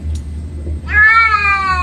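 A house cat lets out one long, drawn-out meow, close and clear, after a brief quiet pause with low room hum.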